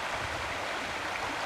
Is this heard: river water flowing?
yes